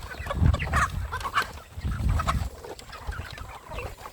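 A flock of native hens and roosters clucks in scattered, overlapping bursts nearby, with no talking.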